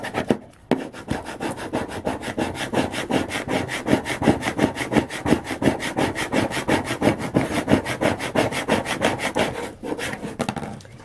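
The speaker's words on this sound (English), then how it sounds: "And I'm just going to eyeball it and put it on and rub it down." A transfer being rubbed down onto a ceramic tile for a coaster, a close, rapid, steady back-and-forth scraping rhythm that continues for several seconds, with no speech.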